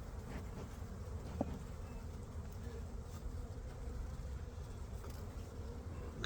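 Honey bees from a weak colony hum steadily at close range while a beehive is opened and inspected outdoors, a continuous low insect drone with no talking.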